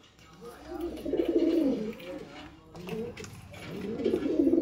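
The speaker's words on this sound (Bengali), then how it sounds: "এটা হচ্ছে নর পায়রা, ঠিক আছে।" A male pigeon coos in soft, rounded, repeated phrases close by, rising and falling in a steady rhythm with short pauses between calls.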